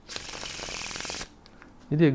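A deck of playing cards is riffled in a faro shuffle, giving a close, dense, steady rattle of cards for over a second before it stops, followed by a brief voice.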